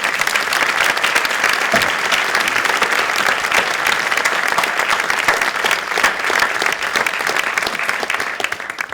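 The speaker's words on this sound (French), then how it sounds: "je vous demande avec moi de remercier en les applaudissant" Dense, sustained applause from an audience thanking volunteers after a speech fills the whole span, loud and even with no break, many hands clapping at once.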